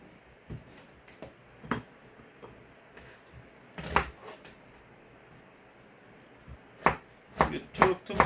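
A knife chops onion on a cutting board: scattered sharp knocks that build into a quick run of loud, close chops at the end, alone without speech.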